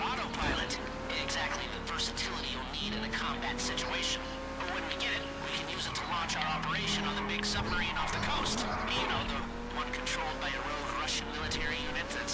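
In GTA V, car engines whine and shift pitch while tires squeal in a skid and spin, heard faintly beneath steady overlapping voices.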